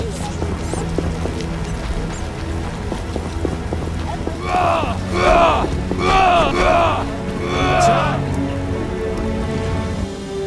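Rain patters steadily in a medieval fantasy game world, its hiss rising in several swells midway under a continuous low background with music-like tones.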